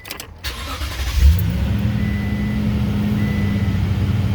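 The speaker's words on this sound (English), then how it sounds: "Fire up the car." A 2007–2019 Toyota Tundra engine cranks and catches after a brief quiet moment, then settles into a steady, close idle rumble that continues to the end.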